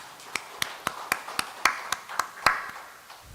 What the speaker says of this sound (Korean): 회원들께 격려의 박수를 한번 해주시기 바랍니다